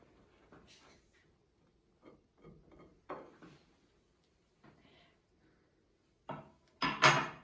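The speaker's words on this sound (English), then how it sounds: "with our spreading knife, we are going to spread it all over the bread" A spreading knife scraping filling across a slice of bread for a vegan sandwich, heard as soft, intermittent scrapes and light taps. Quiet and close, ending with a couple of louder strokes.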